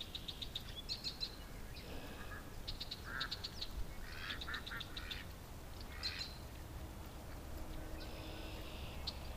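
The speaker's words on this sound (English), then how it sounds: "the only quacking sound that's in the yard right now is her down at the creek" Upset duck quacking down at a creek with Canada geese nearby, a series of faint, distant honking quacks in irregular bursts over steady outdoor background noise.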